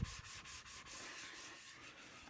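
A straight razor stroked across an old, worn sharpening stone of roughly 600 to 800 grit, giving a series of quiet, rhythmic scraping strokes in quick succession, close and faint, with no speech.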